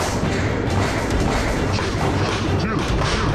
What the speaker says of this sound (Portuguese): os policiais fazendo o cerco aqui foram recebidos a tiros por membros da facção